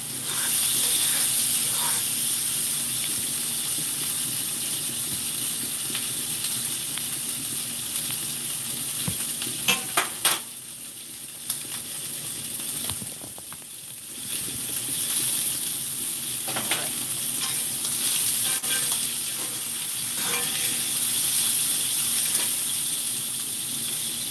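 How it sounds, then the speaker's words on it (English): Gravy for smothered pork chops simmers in a pan, giving a constant soft hissing sizzle that runs throughout, with a few faint clinks and brief dips in intensity. "So y'all can see the gravy is done almost. Turn it on. Let it simmer on too."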